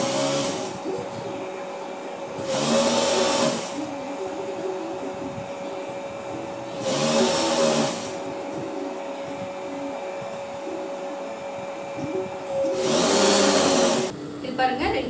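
A sewing machine stitches the seam of a Patiala pant in three loud, steady whirring bursts of about a second each, with quieter handling and faint background noise between runs.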